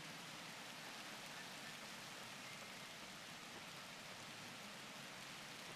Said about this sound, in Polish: Znaczy padać deszcz.